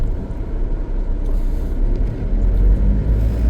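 A car slows and comes to a stop on a forest road at night, its low engine rumble steady and close, swelling slightly toward the end.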